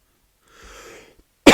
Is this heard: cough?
yes